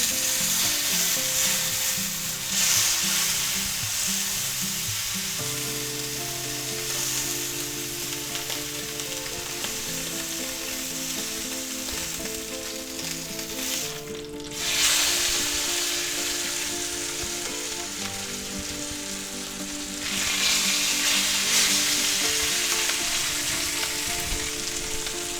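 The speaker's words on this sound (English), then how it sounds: "Alright, our seared pork chops are done." Pork chops sear in a hot pan with a steady, loud sizzle and no pauses for twenty-five seconds; it briefly drops and then swells again as a chop is flipped.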